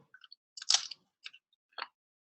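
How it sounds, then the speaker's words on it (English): Several crisp crunches of a corn chip being bitten and chewed, close to the ear, in short bursts separated by brief pauses. "I still like that crunchy sound."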